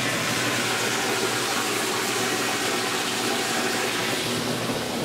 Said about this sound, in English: To move the water over, I'll use my sump pump and a short hose.